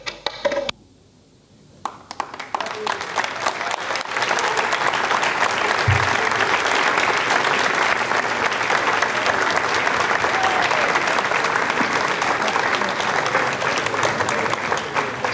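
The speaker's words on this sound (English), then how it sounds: "you can hear the applause and you can see the pictures, the happy faces, the hugs and the smiles all around here in Jupiter" Sustained applause fills the Ariane 5 launch control room at Jupiter after KOREASAT-7 satellite separation, a dense crowd clapping steadily and loudly for the whole stretch after a brief quiet opening.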